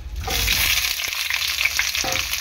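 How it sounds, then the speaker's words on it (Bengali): Previously fried potatoes drop into a pot of sizzling homemade mutton curry with whole garlic cloves. A steady loud sizzle runs throughout, broken by a few soft thuds and stirs, with no talking. "ভেজে রাখা আলুগুলো আরও একবার দিয়ে দিলাম।"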